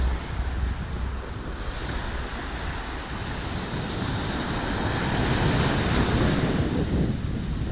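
Mediterranean surf rolls onto the beach at Bonporteau campsite in Cavalaire-sur-Mer, a loud, continuous wash of waves mixed with heavy wind buffeting the microphone.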